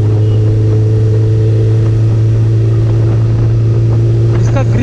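Suzuki Hayabusa sports motorcycle engine droning steadily while being ridden, a loud continuous low hum with a rising whine at the end, with road and wind noise.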